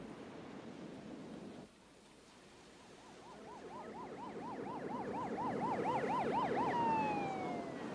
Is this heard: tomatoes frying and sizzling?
no